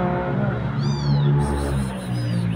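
A cat gives a close, clear meow in a backyard, then another drawn-out meow follows, over a steady low background hum with no talking.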